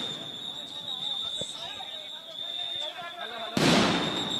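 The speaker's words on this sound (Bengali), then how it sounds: "মুহুর্মুহু যে সাউন্ড গ্রেনেডের হামলা সেটি কিন্তু আপনারা দেখতে পাচ্ছেন" A sound grenade bursts once with a sharp, loud blast during unrest at Dhanmondi 32, cutting through a steady background of crowd noise, a high whine and nearby talk.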